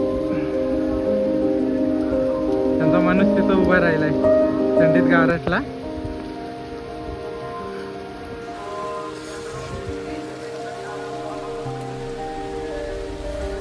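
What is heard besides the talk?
heavy rain at Tirumala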